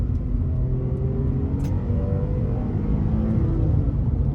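Inside a Porsche 911 996 4S on the move, the engine sends out a steady, loud low rumble and hum with a slight rising tone, continuous throughout and without talk.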